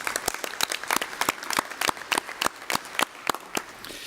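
Applause from a conference audience for panel members at a digital strategies panel, with steady, fairly sparse hand claps in an indoor hall and no talk.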